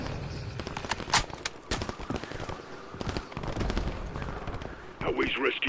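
Bursts of automatic gunfire and single shots crack out in a Call of Duty Modern Warfare 3 firefight in a frozen tundra setting near a mill, close and loud, with radio-style voices talking between volleys.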